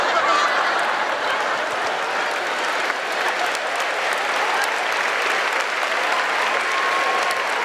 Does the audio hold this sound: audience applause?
yes